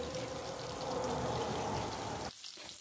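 Potato pieces fry in oil for a Bengali fish curry, a steady bubbling hiss up close that drops away abruptly near the end, with no voices.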